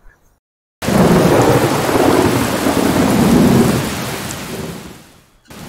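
Sudden heavy rain bursts in after near silence, a loud roaring downpour mixed with deep thunder that swells, holds for several seconds, then fades away.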